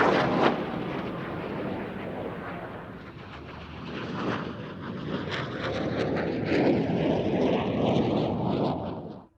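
Turkish Stars F-5 jets flying at an airshow produce a loud, sustained roaring rumble that swells and shifts as they pass, with a sharp burst near the start and a rising whine underneath.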